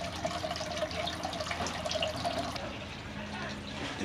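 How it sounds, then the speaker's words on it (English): Water runs continuously from a broken water main across a property, a steady near gush with faint trickling detail and no clear speech. "where the water is running."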